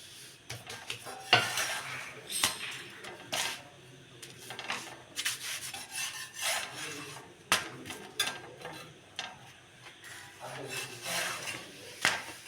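Chapathi dough being rolled out on a board, a soft repeated rubbing and scraping with light knocks of the rolling pin, close and steady with no talk.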